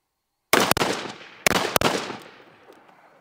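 Two pairs of rifle shots fired during a kneeling drill, loud and close, each pair a quick double crack followed by a decaying echo, with a short pause between the pairs.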